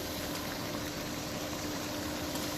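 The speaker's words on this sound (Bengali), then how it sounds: "এখন তরকারিতে ঝোল দিয়ে দিব।" Broth poured into a simmering rohu fish curry gives a steady, loud bubbling and pouring rush that holds continuously without pause.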